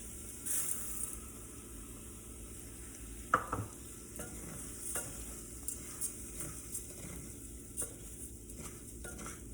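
Rice stirring and frying in a pan with garlic, ginger and turmeric gives a soft, continuous sizzle, broken by scattered scrapes and a sharper clink from the spoon.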